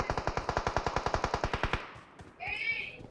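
Rapid automatic gunfire in the mobile battle royale game BGMI, a steady burst of about twenty close shots followed by quieter game sounds and a brief higher effect.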